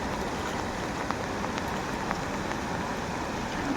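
Steady rain pours down in a dense, even hiss, with occasional louder drops standing out close by and no voices.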